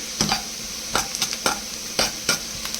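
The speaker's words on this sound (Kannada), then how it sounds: "ಒಂದು ಅರ್ಧ ಸ್ಪೂನ್ ಜೀರಿಗೆ ಹಾಕ್ತಾ ಇದ್ದೀನಿ." Cumin seeds fry in a pan with a bright, steady sizzle while a spoon scrapes and taps through it in quick, fairly regular strokes about every half second, close up and alone.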